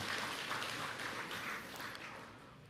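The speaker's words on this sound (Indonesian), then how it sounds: "Tepuk tangan teman, kita orang Bali nih." Audience applause at a talk about Bali, a steady, dense wash of many hands clapping that stays fairly even, then eases slightly toward the end. Heard at a distance and quite faint.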